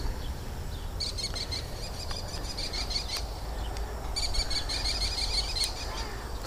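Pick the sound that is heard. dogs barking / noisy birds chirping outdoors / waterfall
noisy birds chirping outdoors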